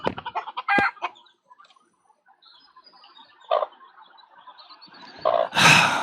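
Chickens cluck in short bursts that come and go, with a louder cackling flurry near the end; the clucks are fairly close and heard alone with no talking.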